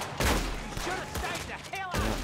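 A few sharp gunshots in the video game Red Dead Redemption 2, loud and close, spaced through a brief burst of outdoor game sound with no talk.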